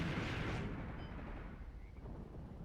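Rocket artillery explosions pound a German position in the tank-battle video game Graviteam Tactics: Mius Front, a heavy, rumbling blast that rolls and decays into low booming echoes, fairly quiet and with no voices.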